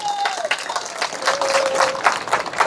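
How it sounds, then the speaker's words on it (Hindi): Loud, continuous applause from a large crowd at an outdoor protest rally, steady clapping throughout with crowd noise and faint voices mixed in. "सबसे पहले भाई एक बार जोरदार ताली बजाओ खुद के लिए"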